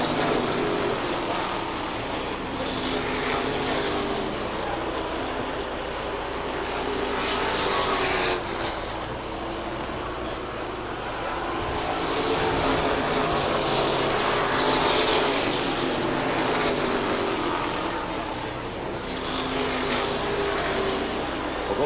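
NASCAR Modified Tour race cars lapping at Waterford Speedbowl, a dense, loud engine roar that swells and fades as packs pass, with a constant crowd-and-track wash beneath.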